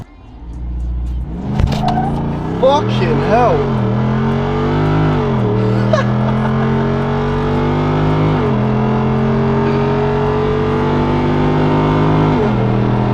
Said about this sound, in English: Now I'll show you how this car accelerates on the road.